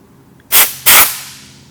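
Compressed shop air blasts against the back of a repaired wheel in two sharp, loud bursts about a third of a second apart, each a hissing roar that cuts off and leaves a fading ring.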